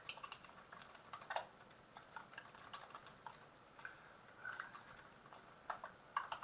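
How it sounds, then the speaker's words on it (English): Someone types on a computer keyboard during an online webinar, producing irregular bursts of quiet, close key clicks with short pauses and no talking. "I'm halfway through typing"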